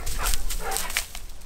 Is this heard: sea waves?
no